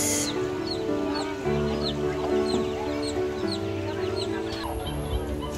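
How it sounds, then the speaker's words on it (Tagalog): Chickens clucking on a farm where ducks are also kept, a dense overlapping chorus of clucks and chirps close by, with a low droning background running steadily underneath. "Yung mga manok natin."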